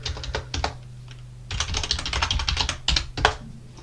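Linux commands being typed on a computer keyboard, bursts of quick close key clicks broken by a short pause, then a denser run of keystrokes ending in a couple of harder taps, with no talking.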